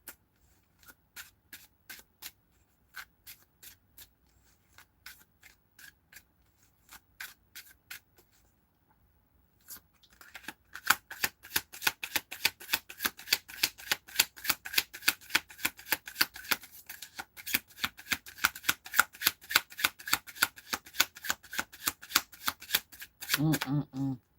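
A deck of playing cards being shuffled during a tarot-style card reading: scattered riffles at first, then a long run of rapid, crisp card flicks, fairly close, with a person talking at times.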